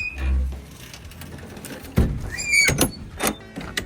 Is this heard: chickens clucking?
no